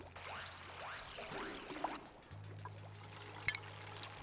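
Water trickling and pouring in the colony game Oxygen Not Included, a soft continuous liquid flow with light splashes and a small clink, faint under low background hum.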